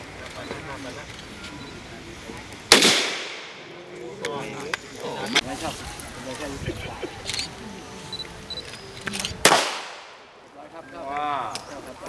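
Two loud, sharp gunshots, several seconds apart, ring out close by at a body-armor test at a police training center, with people talking and murmuring between the shots.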